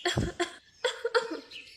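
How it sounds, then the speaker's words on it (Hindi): A cartoon bird maid coughs in a few short harsh bursts, near and clear, with a breathy pause between the fits and no other sound around them. "खांस खांस कर पूरा घर हिला रखा है।"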